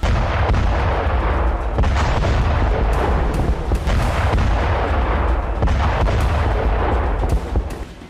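Heavy artillery fire in war footage from the Russia–Ukraine fighting, a continuous loud rumble of booms and blasts with no clear gaps, close and dense throughout.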